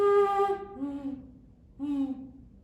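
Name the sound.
person imitating a mourning dove call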